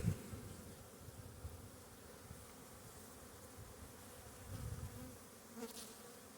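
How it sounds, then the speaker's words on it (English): A dense, steady buzzing of many honeybees close by at an open hive, swelling slightly now and then, with no voices. "A lot of fuzzy bees."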